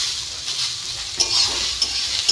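Bitter gourd and onion sizzle in a pan while a utensil stirs them, with a few sharp scraping clinks against the metal.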